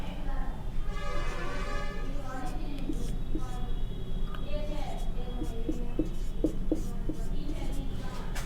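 Chalk scratches and taps on a classroom board during a maths lesson, short irregular strokes and clicks heard faintly beneath a teacher's steady talking.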